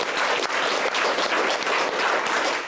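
A Pongal special debate audience applauds, dense even clapping from a large crowd sustained loudly for the whole stretch.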